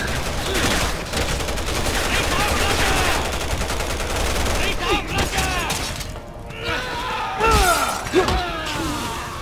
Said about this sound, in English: Wait, are they shooting each other?